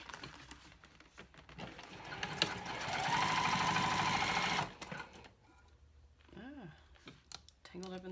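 A sewing machine top stitching card slots on an all-cork clutch wallet, its rapid mechanical whir rising for a few seconds and then stopping, with a person talking quietly and a few taps around it.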